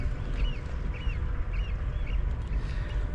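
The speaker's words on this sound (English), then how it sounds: "All birds have come to greet me once again." Seabirds call at a rocky sea-fishing spot, a series of four evenly spaced, duck-like squawks over a low steady rumble of surf and wind.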